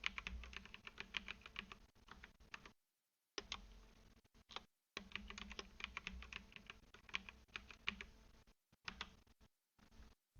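Fingers tap out a password on a computer keyboard in quick bursts of crisp, close keystrokes, broken by short pauses, quiet overall with no voices.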